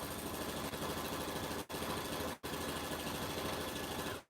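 Sewing machine stitching oven mitts, a fast steady mechanical whir running close and loud, with two brief pauses before it stops.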